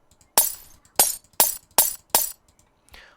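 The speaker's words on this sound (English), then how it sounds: "For glass, I've actually imported a glass sound." An imported glass-impact sound effect fires on projectile hits in an Unreal Engine game scene, five sharp shattering crashes at even intervals, loud and close, each decaying quickly, then a fainter clink at the end.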